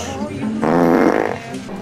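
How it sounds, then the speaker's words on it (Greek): A single loud, buzzy fart rumbles for most of a second, standing out clearly against a murmuring background. "Α, κλανιά!"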